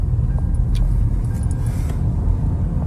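A car setting off for a short drive, a loud steady low rumble of engine and road noise from inside the cabin, with a few faint rattles above it and no talking.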